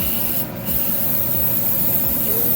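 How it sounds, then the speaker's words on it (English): An aerosol or airbrush spray mists paint onto a model car part for an MG 1100 build, giving a steady, close hiss that runs for a couple of seconds with a short dip early on. "there's the final piece we're spraying today"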